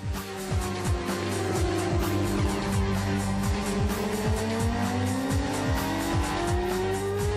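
Race cars lap the Yeongam circuit in Korea, engines roaring loud and steady with repeated pass-by sweeps, rising whines and tire squeal through the curves, with no talk over it.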